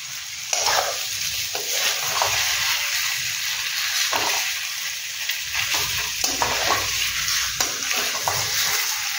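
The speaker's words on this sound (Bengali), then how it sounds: "টমেটোটা একটু ভেজে নিয়ে তারপরে কচুরমুখীটা দেবো।" Tomato and boiled halved taro (arbi) frying in a pan, a loud continuous sizzle with repeated scraping stirs throughout.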